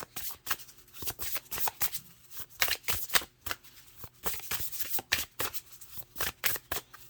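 Tarot cards riffled and shuffled by hand in quick repeated bursts of crisp, papery flutters, close and fairly quiet, with no voices.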